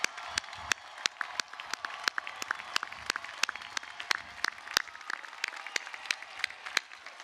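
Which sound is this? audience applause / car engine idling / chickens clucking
audience applause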